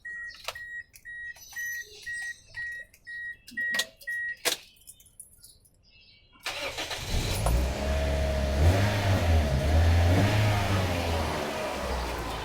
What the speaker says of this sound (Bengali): আমি এখন গাড়িটা স্টার্ট করব।